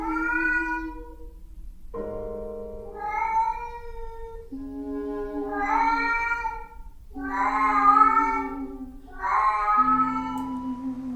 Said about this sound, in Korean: 그 고양이인지 사람 소리인지 모를 울음소리가 들려왔습니다